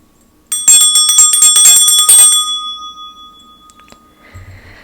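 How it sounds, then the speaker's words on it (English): A small handheld bell is rung several times in quick succession to clear energy before a tarot reading, its bright metallic ringing loud and close, then fading into a long decaying tone. "I'll start by clearing the energy with my bell."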